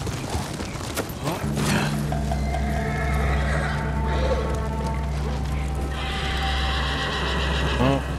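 Horses in the PS4 video game Ghost of Tsushima whinny and neigh repeatedly, with hoof clip-clops and combat effects in a busy game mix.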